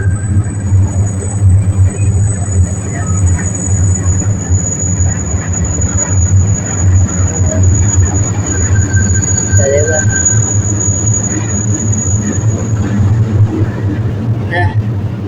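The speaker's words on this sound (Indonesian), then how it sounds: "Itu ada LRT lewat." An LRT light rail train passes by with a steady low rumble and a brief squeal, heard under nearby talk.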